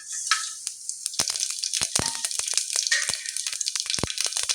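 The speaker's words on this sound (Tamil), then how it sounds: "கசகசா, சோம்பு, பட்டை, லவங்கத்தை ஆட் பண்ணிக்கிறேன்" Poppy seeds, fennel, cinnamon and cloves hit hot oil in a pan, setting off a bright, close sizzle with rapid popping crackles scattered throughout, loud and continuous with no voices.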